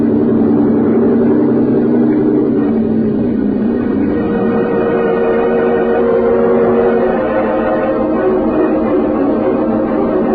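A radio drama boat engine sound effect: a loud, continuous low motor drone with a rumbling, slightly wavering pitch, steady throughout with no voices.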